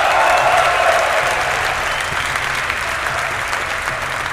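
Loud, sustained cheering and applause from a large esports crowd at the DreamHack Summer Championship, fans roaring for a player from team We Made Fox, a dense continuous wash of noise that fades slightly toward the end.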